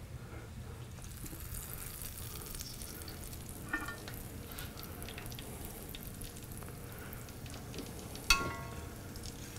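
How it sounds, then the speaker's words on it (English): Fried pies fry in hot grease over a fire, a steady close sizzle and crackle with occasional louder pops and spatters, no voices. "now we got our fried pies all ready to fry"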